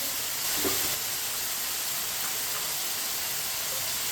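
Sliced tomatoes go into a hot pot of pulao base. A steady, loud hiss and sizzle carries on evenly throughout.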